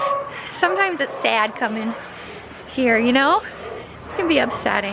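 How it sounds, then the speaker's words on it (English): Several dogs bark and yelp in bursts at an animal shelter, their high, rising yips close by while someone talks over them. "You can hear all the dogs barking."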